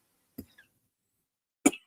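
Two separate coughs, the first moderate and the second louder, with a quiet pause between them and no talking.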